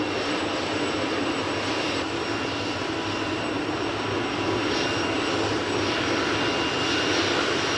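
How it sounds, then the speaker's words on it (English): Helicopter engines and rotors spinning up, a loud continuous turbine whine with steady mechanical roar and faint rhythmic rotor pulsing, close and unbroken with no voices. "My engines are revving faster and faster and faster. My tail rotor is speeding up too."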